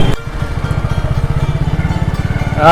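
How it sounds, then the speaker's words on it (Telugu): Motorcycle ride on the way to Khammam fort: a steady, close engine drone with a regular pulsing beat, running continuously through most of the stretch. "బైక్ మీద వెళ్ళిపోతున్నాను నేనైతే"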